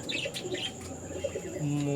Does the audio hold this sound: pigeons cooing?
yes